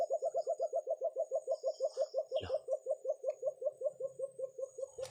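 A black bird calls in a fast, regular series of repeated hooting notes, nearly thirty in quick succession, fairly close and clear, with a brief rustle partway through and faint background noise.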